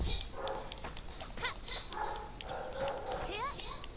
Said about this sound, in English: Sorry about the loud dog that just keeps on barking